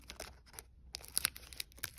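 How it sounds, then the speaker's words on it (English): Scissors snipping open a Pokémon card pack, a quiet series of short crisp cuts and crinkles of foil wrapper in two bursts with a brief pause between, close and alone. "Let's just get the scissors. Let's cut it open."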